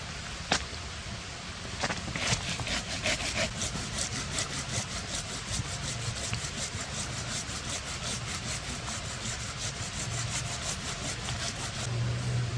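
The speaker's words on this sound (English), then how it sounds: "Sometimes the saw, because the bark's soaking wet, it just smears all that moisture." A hand saw rasps back and forth through wet wood with soaked bark in steady, rapid strokes, close by and continuous with no talking, at a winter campsite.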